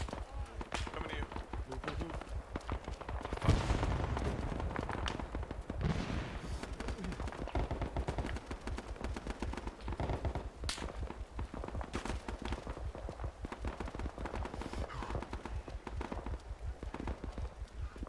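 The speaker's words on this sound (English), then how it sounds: "this is one of the few times where I've actually been in a mission where we've been under heavy fire" Heavy gunfire in the video game 3/5 Marines: Battle for Hue City: a continuous rapid rattle of automatic shots with a few louder bangs, steady and fairly close throughout.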